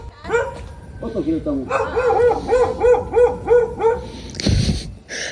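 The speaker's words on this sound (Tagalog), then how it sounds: "Aba, tapang naman ng mga aso dito." Several dogs bark in rapid, overlapping bursts nearby at a rural house in the Philippines, a steady run of yapping barks, ending with a brief thump.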